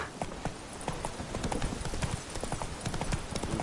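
Horse hooves trotting in The Witcher 3, a quick, even clip-clop of hoofbeats on ground, close and steady throughout with faint background ambience.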